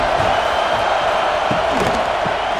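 Stadium crowd at a college football game, Alabama Crimson Tide at Florida State, roaring in a steady broad wash with faint shouts and whoops rising through it, continuous and loud throughout.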